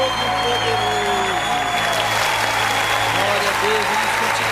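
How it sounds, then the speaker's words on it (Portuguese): A church congregation claps steadily throughout, with sustained dense applause under a low hum and faint sung or spoken tones, during an online worship service. "as palmas engrandecem o nome do Todo-Poderoso"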